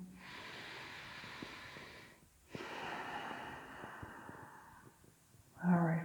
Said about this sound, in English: let's take 2 more big breaths